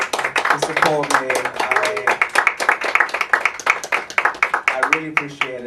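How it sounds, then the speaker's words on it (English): Audience at a comedy show breaking into sustained applause, dense rhythmic clapping from many hands filling the room, with a few voices and cheers mixed underneath throughout. "one more round of applause for yourselves, and one more round of applause for my colleague coming all the way to support me"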